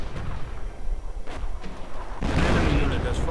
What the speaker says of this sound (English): Hummels are now available for deployment. And there we go. First barrage.